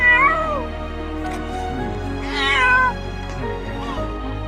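A cat meows repeatedly during a rescue, with several loud, drawn-out plaintive cries rising and falling over a steady low background hum, and no talking.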